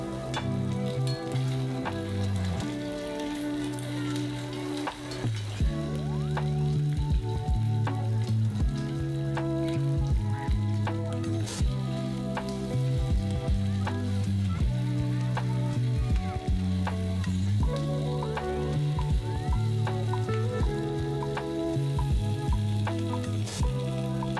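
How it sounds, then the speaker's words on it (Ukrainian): Beef sizzles steadily in hot vegetable oil in a pan, a continuous crackling hiss with occasional louder pops, while music plays underneath. "У розігріту сковородку наливаємо рослинну олію і додаємо яловичину"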